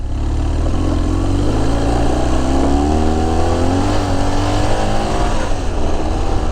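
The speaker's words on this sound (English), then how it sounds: "I just throttled on nice and hard to see when the back tyre would break loose" A motorcycle engine is throttled hard on a no-through road, rising in a loud, continuous roar as it accelerates, with the pitch sweeping steadily upward and staying close throughout.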